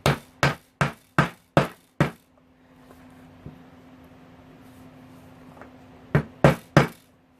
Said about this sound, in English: You gotta use a hammer for this.